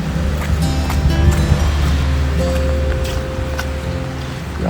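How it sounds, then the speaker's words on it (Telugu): Fierce floodwater flowing past hills and forest, a loud continuous rushing roar with deep low rumble and gusty wind-like turbulence, heard up close and alone. "మీరు చూడొచ్చు ఎంత ఉధృతంగా ప్రవహిస్తుందో"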